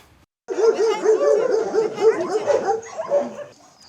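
Rescued dogs evacuated from Kherson bark and whimper close by, a loud, continuous run of yips and whines packed together for about three seconds.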